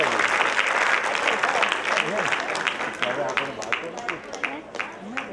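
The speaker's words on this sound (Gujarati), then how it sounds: "તાળીઓ એમના માટે પણ હોઈ શકે" An audience at a Gujarati community event applauds together, a dense burst of clapping that thins into scattered individual claps over a few seconds, with voices mixed in.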